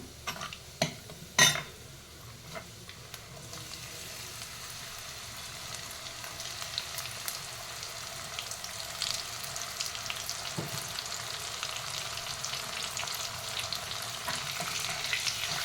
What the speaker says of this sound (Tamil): நல்லா வதக்கிங்க வெங்காயத்தை நல்லா ஃப்ரை பண்ணிக்கோங்க